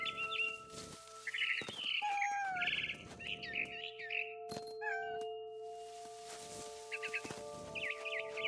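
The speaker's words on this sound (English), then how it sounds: "I heard chirping outside my window. It was a barn swallow going back to her nest." Bright, rapid barn swallow chirps and twittering calls in the video game What Remains of Edith Finch come in repeated bursts over a steady tonal background hum, fairly close and clear.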